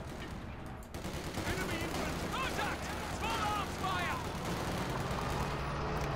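MP40 submachine gun fire in a Company of Heroes 2 battle against penal troops, with sustained rapid automatic bursts and a busy wash of overlapping battlefield gunfire, while a voice talks throughout.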